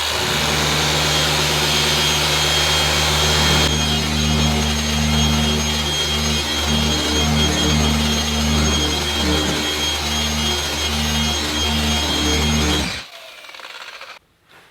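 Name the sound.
car polisher on 1991 Honda NSX paint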